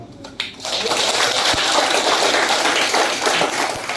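An audience at a community zero-waste project event in Nakhon Si Thammarat, Thailand, claps to welcome a speaker, a loud sustained burst of dense applause starting abruptly and holding steady for several seconds.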